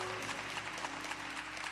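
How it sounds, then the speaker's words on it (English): Quiet, steady applause from an audience at a property tax appeal seminar, a soft continuous patter of clapping with no voices over it. "Give him another round of applause."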